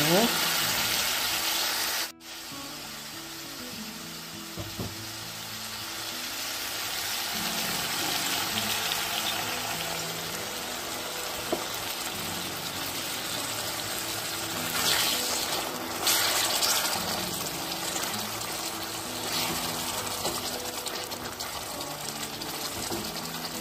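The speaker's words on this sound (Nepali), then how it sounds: "यसमा म पहिला अलिकति ग्रेभी हाल्नेछु।" Gravy poured over chicken with nakima in a pan, a continuous liquid splash and sizzle running under a steady kitchen background, with a brief sharp break early on.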